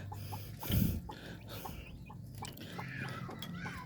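A brooding hen clucks softly a few times at close range, with a brief louder burst near the start and faint rustling around it.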